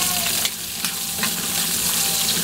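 Onions sauté in oil with browned garlic for pancit canton, giving a loud continuous close-up sizzle with a few brief stirring scrapes.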